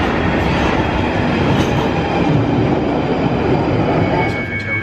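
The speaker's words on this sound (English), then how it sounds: "Here's the train now." Train pulling into a London Underground station platform near King's Cross, a loud steady rumble of rolling wheels with faint squealing and rattling, with a little talk in the background.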